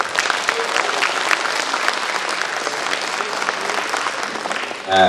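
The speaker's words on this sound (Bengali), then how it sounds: "এই জন্য ওদের জন্য একটা হাততালি" An audience at a theatre festival gives a burst of dense, continuous applause lasting about five seconds, then a voice cuts in right at the end.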